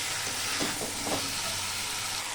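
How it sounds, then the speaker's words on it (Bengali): Chicken and pre-fried potatoes are sautéed with spices in a pan over high heat, making a steady, dense, close sizzle with a few soft stirring scrapes. "আলুটা দেওয়ার পরেও আমি আলু একটু কষিয়ে নেব মাংসের সঙ্গে আলুটা"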